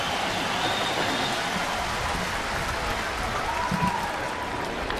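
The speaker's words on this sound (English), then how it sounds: "the crowd goes crazy" A college football stadium crowd cheering and applauding a catch, a dense sustained roar of clapping and shouting that stays steady and loud throughout, with no single voice standing out.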